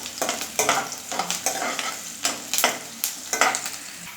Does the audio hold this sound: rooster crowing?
no